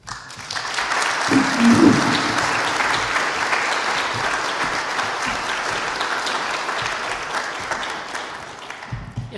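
An audience at an Earth Day gathering claps for an event organizer, a full round of applause that swells quickly, holds steady, then tapers off near the end.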